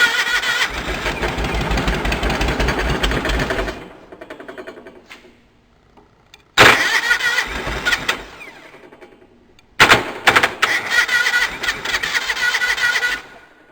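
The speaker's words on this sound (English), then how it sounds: "So we'll find a screwdriver where I can cross this starter over, see what happens." Cub Cadet 1650 four-wheel-drive tractor engine cranking on the starter, crossed over with a screwdriver; three loud bursts of rapid rhythmic churning, the first nearly four seconds long, separated by quiet pauses.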